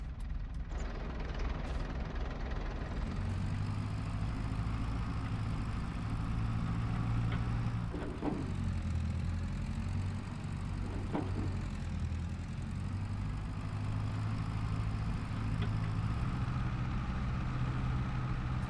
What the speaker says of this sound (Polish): Ale pięknie brzmi ta 50-ka.